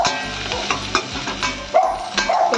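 Green chilli, garam masala and turmeric stirred in a pan, a spoon scraping in short repeated strokes over a faint sizzle, close and fairly loud with no talking.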